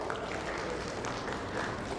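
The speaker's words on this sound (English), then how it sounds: "Please welcome her with a huge applause." An audience at an insurance industry summit in India applauds a session moderator coming on stage, a full, continuous round of clapping filling the hall.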